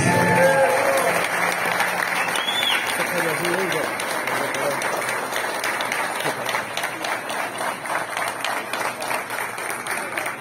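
A crowd at a wine and viticulture gathering in São Paulo claps to welcome an honoree onto the stage; sustained applause runs throughout, with a voice briefly heard over it near the start.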